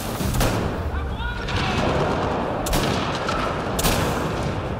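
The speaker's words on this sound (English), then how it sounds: "They're shooting. I'm taking damage." Enemy gunfire in Mass Effect: Andromeda, a dense, loud barrage of shots and booms with a few sharp cracks standing out, continuous over a noisy combat background.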